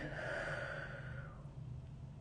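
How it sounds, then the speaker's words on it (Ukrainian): A slow, deep breath in and out during a guided relaxation exercise, soft and close with a faint airy rush that fades out, set over a low steady hum with no speech. "робимо глибокий вдих, видих"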